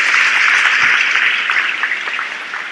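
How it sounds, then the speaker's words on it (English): A freshman induction audience applauds itself, with dense, bright clapping from a large crowd that holds steady and then eases slightly. "please give yourselves a round of applause because you deserve it"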